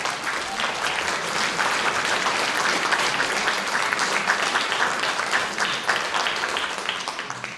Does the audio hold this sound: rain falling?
no